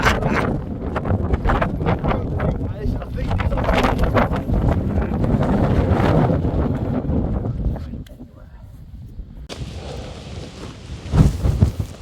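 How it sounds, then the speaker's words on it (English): Extreme wind buffets a mountain summit campsite where tents are pitched, loud gusts roaring and flapping against the microphone for several seconds, then easing to a quieter rush before another brief blast. "So windy."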